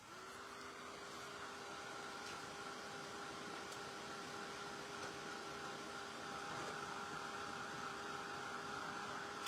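A hair dryer blows over a freshly painted coat on a plastic Christmas ornament, a steady, unbroken whir with a constant hum holding level throughout, with no talking.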